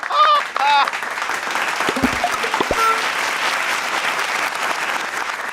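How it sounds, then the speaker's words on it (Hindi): Audience applause in a Bhojpuri comedy show, a dense steady clapping from a crowd that runs through the whole stretch, with a voice speaking briefly at the start. "तालियां।"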